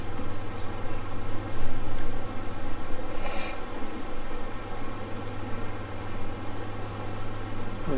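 Dense, steady buzzing of many honey bees in an opened hive, close and continuous with a low droning hum underneath and a brief higher whine partway through; no talking.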